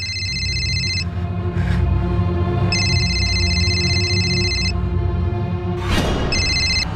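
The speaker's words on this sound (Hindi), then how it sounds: "सर, प्रकाश सुर्वे के फोन पे कॉल आया है।" An incoming call rings a phone in repeated electronic bursts separated by short gaps, loud and steady over a low hum, with a brief noisy burst near the end.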